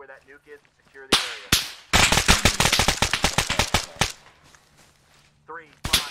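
Rapid gunfire in the video game ArmA 3, a loud burst of repeated cracking shots lasting a few seconds, with single shots before and after and a voice talking at the start and end.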